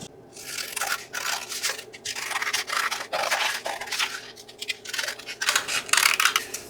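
Scissors trimming paper around a glued window envelope tag holder, a steady run of close, crisp snipping and rubbing sounds continuing throughout with no talking.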